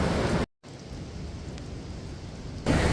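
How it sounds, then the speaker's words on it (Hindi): Heavy rain pours down in a hilly mountain area, a steady close wash of broadband hiss with a brief dropout in the middle. "इतनी तेज़ बारिश हो रही है"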